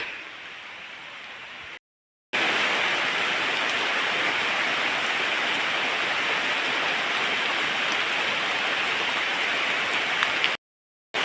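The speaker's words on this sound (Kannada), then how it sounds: "ಮಳೆ ಬರಲಿಕ್ಕೆ ಸ್ಟಾರ್ಟ್ ಆಯ್ತು" Steady, dense rain hisses continuously, close and even, broken twice by brief cuts to silence.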